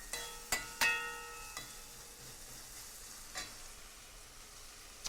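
Haitian black rice being stirred in a pot, with faint scraping and light sizzling plus a few brief clinks of the spoon against the pot near the start.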